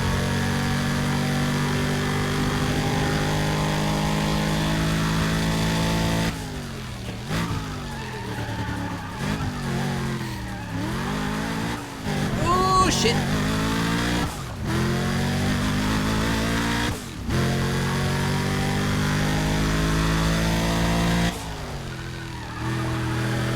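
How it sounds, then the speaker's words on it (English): Turbocharged car engine intake and exhaust in the racing game Need for Speed ProStreet, loud and continuous with repeated rev climbs, gear-change dips and flashes of tire squeal, with no voices over it. "Like, you can hear pretty clearly both the intake and the exhaust."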